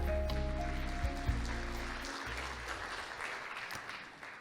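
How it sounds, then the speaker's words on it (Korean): Audience applause at a televised forum marking a Seoul business TV channel's anniversary, a soft, fairly distant wash of clapping heard beneath a low sustained musical tone that fades out about halfway through. "다시 한번 큰 박수 부탁드립니다"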